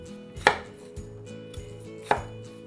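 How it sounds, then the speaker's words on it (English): A knife cuts a V-shaped core out of a head of cauliflower, giving two sharp, close chopping knocks about a second and a half apart, with softer board taps in between. "we're gonna cut a little V shape in here."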